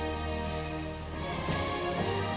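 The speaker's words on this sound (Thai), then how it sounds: "นี่คือเสียงของเรือท้องแบน" A flat-bottomed boat's engine drones steadily and fairly loud across flooded water, a continuous hum with no voices.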